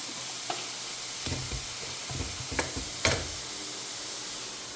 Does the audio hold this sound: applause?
no